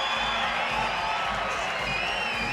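A crowd at a BMX quarter-pipe event roars and cheers loudly and continuously, with whistles and scattered whoops.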